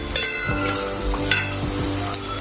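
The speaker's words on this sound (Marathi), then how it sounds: "तर आता यामध्ये आपण हे खोबरं, कांदा सगळं मिक्स करून घेऊया" Roasted coconut and onion mixture stirred in a pan for a spicy village chicken curry, a close continuous sizzle with repeated scraping of the utensil against the pan and faint clinks.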